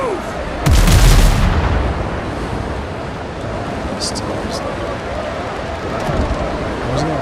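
Ship cannons fire in the video game Windrose, a heavy booming broadside near the start over a steady bed of ocean waves, with a few sharper reports later as a person speaks.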